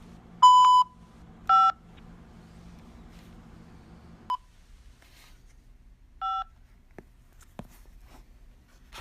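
A few telephone keypad dialing tones sound on a prison phone call line as short, clear beeps, two close together near the start and another later, with small clicks and a low hum in between.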